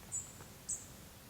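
Two short, high bird chirps ring out about half a second apart over a faint, quiet outdoor background.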